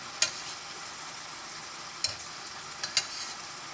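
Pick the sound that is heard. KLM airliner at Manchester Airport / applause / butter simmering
butter simmering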